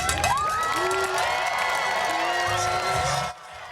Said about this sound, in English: Fans were cheering on pigs racing around a track